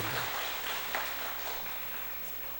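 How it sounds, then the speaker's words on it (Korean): Church congregation applauding during a Sunday morning service, a steady wash of many hands clapping at moderate distance that gradually thins and fades. "가서 속식이지 말고 공부 잘하고 직장생활 잘하라고 박수 한번 해주시기 바랍니다."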